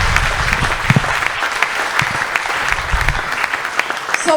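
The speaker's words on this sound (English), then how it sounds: "That clapping is very lukewarm." A church congregation claps together in a fairly brief, moderate burst of applause, uneven hand claps with some crowd murmur and a voice briefly heard near the end.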